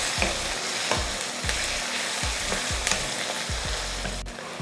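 Chopped onions and crushed garlic cloves fry in hot oil with a continuous sizzle, while a spatula scrapes and stirs in a steady rhythm of close, distinct strokes.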